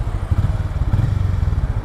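Close, loud Hero Mavrick 440 motorcycle engine idling with a rapid, even low thumping throb and a faint rattling buzz over it from the mirrors.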